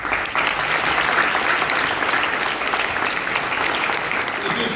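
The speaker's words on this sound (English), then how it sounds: "I think all of us must applaud their phenomenal work they do." A graduation ceremony audience claps in sustained, dense applause, a loud, even wash of many hands from start to finish with no clear break.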